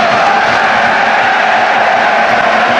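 Stadium crowd at a rugby league match between Leigh and Bradford, a loud, constant roar of many voices with no distinct cheers, filling the whole stretch.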